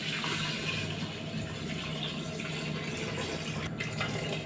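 Water pours steadily into a cooking pot holding flank steak in a home kitchen, a continuous, close, splashing rush that stays even and loud throughout without any talk.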